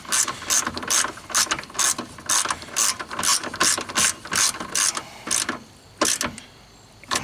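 A ratchet tightens a fastener during radiator work on a 2007 Honda Civic, giving rapid bursts of loud, close metallic clicking in repeated strokes with short pauses between, then a few final clicks.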